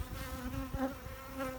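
Honey bees buzz steadily around an opened hive during a split, with a dense, close droning hum that carries on without a break.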